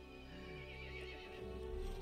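A horse in the video game Resident Evil Village whinnies loudly in a long, wavering neigh over a busy background, with faint hoof clip-clops mixed in.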